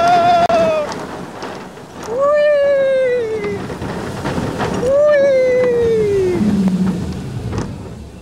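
Rain pelts riders on the Sky Car launched roller coaster at Mysterious Island as a steady rushing hiss under wind, while riders whoop and shout loudly over it.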